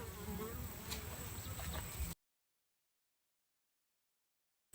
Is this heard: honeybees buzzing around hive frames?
yes